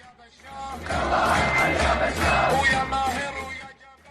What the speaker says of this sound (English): Cheered on and supported by the crowd, he sings, "Your legitimacy has ended, get out Bashar."